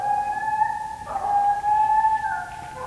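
A coonhound baying steadily while treeing a big raccoon on a night hunt, drawn-out tonal howls rising and holding with a short break midway, fairly near and loud.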